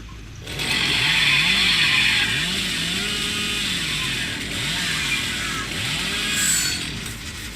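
A chainsaw revs in the horror video game Dead by Daylight, a loud continuous buzzing drone that rises and dips in repeated swells over several seconds.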